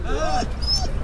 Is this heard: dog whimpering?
yes